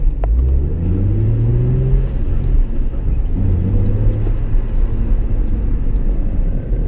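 A Nissan 350Z pulls away, its engine rumbling loud and close as it rises in pitch through the gears and then settles into a steady droning cruise, no talking.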